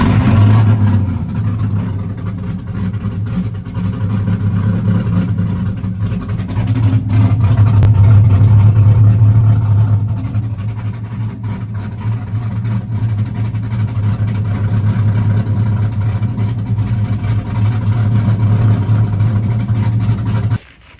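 A vehicle engine runs steadily after a loose battery ground is fixed, a loud low rumble that swells slightly midway and holds until it cuts off at the end.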